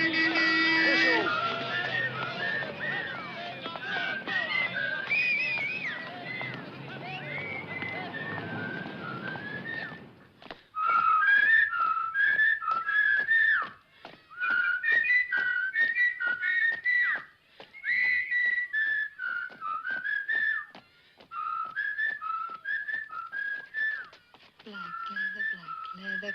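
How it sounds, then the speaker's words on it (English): Someone whistles a melodic tune for a long stretch in short repeated phrases, loud and close, following a passage of busy voices and crowd noise, with sharp rhythmic clicks under the whistling. "Whistle."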